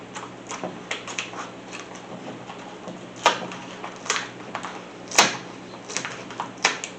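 Oracal 651 adhesive vinyl cut off the roll for die-cut decals, giving a series of short crisp snips and rustles with several sharper cuts standing out, close and fairly quiet, with no talking.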